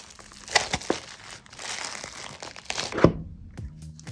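Plastic film being peeled back from OnePlus Watch packaging gives close crinkling and tearing, with a few sharp crackles and a brief rip near the end.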